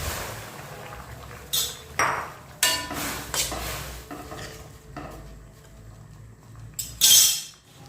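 Cauliflower goes into a pot of boiling vegetables for a Chinese-style dish: scattered metallic clinks and clanks of utensils against the pot, a few sharp taps, and a louder clatter of the lid near the end.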